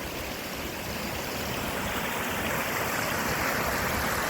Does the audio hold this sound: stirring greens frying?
no